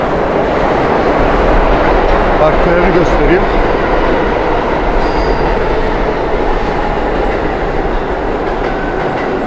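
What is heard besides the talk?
express subway train passing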